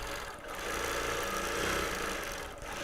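A quilting machine stitches a quilt on a frame, giving a continuous, fairly loud mechanical hum with a steady rapid rhythm and no pauses.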